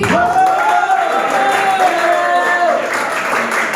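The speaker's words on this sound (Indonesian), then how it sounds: "Beri dulu tepuk tangan untuk Tuhan." A church congregation claps and cheers in praise during a sermon, a loud steady wash of applause with a voice calling out over it.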